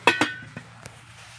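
A lid set over a frying pan of oil-free fried eggplant: two sharp metallic clinks in quick succession, then a couple of fainter taps, all close and brief.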